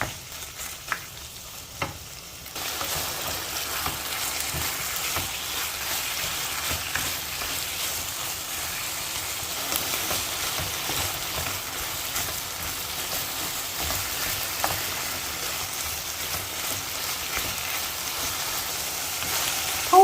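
Korean-style chicken fingers fry in a pan over high heat, a loud continuous crackle and sizzle that swells after a quieter opening couple of seconds and keeps going without speech.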